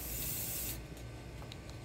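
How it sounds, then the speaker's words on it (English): Spray can hissing onto a shooting target: a sharp, loud hiss for under a second that cuts off abruptly, followed by faint rattling and handling noises. "let's spray this target so there's no confusion"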